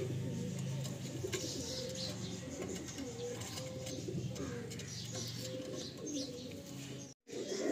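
Pigeons in a loft coo softly and repeatedly, their low burbling calls overlapping at a quiet, steady level with faint chirps and rustling around them.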